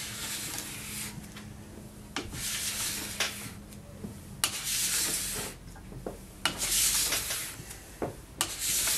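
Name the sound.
scraping ski wax with a metal or plastic scraper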